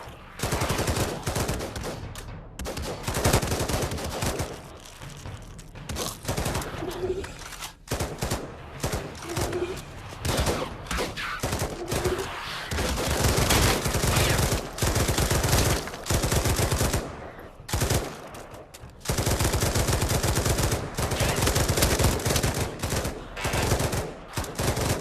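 Video game gunfire in Pavlov zombies mode, dense rapid bursts of automatic shots and single cracks repeating almost continuously with brief pauses, loud and close.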